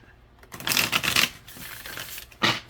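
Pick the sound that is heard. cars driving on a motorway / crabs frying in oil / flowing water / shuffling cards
shuffling cards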